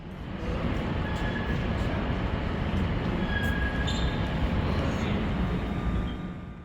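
A KTX train rumbles steadily through a South Korean railway station with faint squealing wheel tones and distant clanks, a constant low roar fading in and out.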